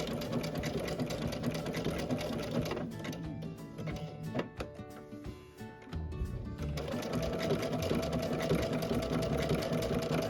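A sewing machine runs a blanket stitch in black thread around a scrappy Dresden quilt block, a steady close mechanical whir that pauses into a few separate clicking stitches before resuming its continuous run.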